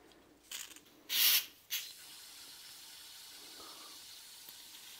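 Propellant gas hisses into a spray can during refilling, with a loud broadband rush around a second in and a shorter burst after it, over a steady faint background hiss.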